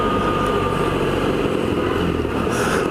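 A Suzuki Burgman 650 scooter's engine drones steadily while riding, a loud continuous hum mixed with rushing wind noise and no speech.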